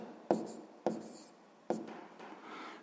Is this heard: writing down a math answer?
yes